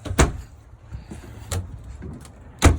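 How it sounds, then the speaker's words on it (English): An RV sliding door in a Keystone Bullet 291RLS travel trailer, heard as a few separate thuds and rolling clunks close by, with a sharp knock at the start and another near the end. "Sliding door."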